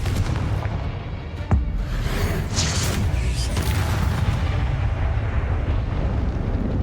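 Spell blasts like Confringo and Bombarda in the Hogwarts Legacy video game, dense rumbling booms and bursts over a constant loud combat din, with a sharp impact near the start and little pause throughout.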